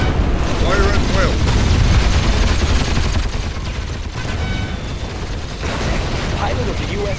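Rapid gunfire and clattering battle mechanics from the real-time strategy game C&C Generals Zero Hour, a dense, loud barrage running throughout with short dips, mixed with unit voice lines.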